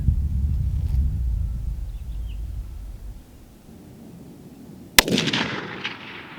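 A single 6.5 Creedmoor rifle shot cracks at an outdoor range after a few seconds of quiet wind and low rumble. It is a sharp, loud report that rings out and fades.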